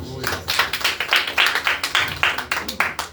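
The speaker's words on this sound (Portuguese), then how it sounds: "E as palmas para Jesus." A church congregation clapping for Jesus during a service, with sharp, rhythmic, fairly close handclaps that come in a steady repeated beat, and voices in the background.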